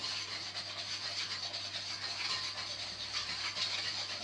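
A milk mixture whisked smooth in a bowl for a custard filling gives a soft, steady, even scraping and swishing, faint and close, with no voices.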